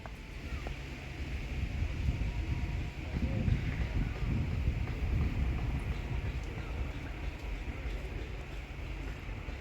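White Pass & Yukon Railway train 3004 rolls through Skagway back toward the dock, a steady low rumble of wheels and cars sustained throughout with a wash of wind noise.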